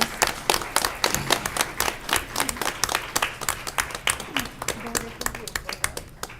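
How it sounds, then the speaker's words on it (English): Audience at a school district board meeting applauding award nominees, a thinner crowd of distinct individual claps in a loose, uneven rhythm, with murmured voices underneath. "Please give all of our nominees a round of applause."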